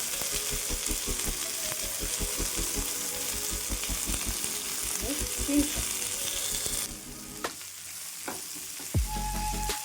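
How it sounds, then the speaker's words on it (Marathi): Chillies, coriander, garlic, tamarind and cumin roast in a pan for potato-stuffed mirchi bhaji, giving a steady close sizzle with rhythmic stirring scrapes, then a quieter stretch with a few clinks near the end. "छान भाजून घ्यायचं मिरची कोथमीर लसूण आहे चिंच आहे आणि जिरं पण टाकलेलं आहे"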